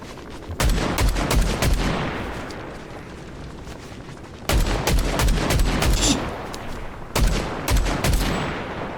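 Rapid bursts of automatic gunfire in Fortnite, loud and close, in three volleys separated by brief lulls with a faint lingering echo.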